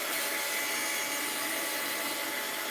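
A hair dryer blowing steadily on a mixed-media art journal page, a loud, continuous close-up airy whoosh with no breaks or talking.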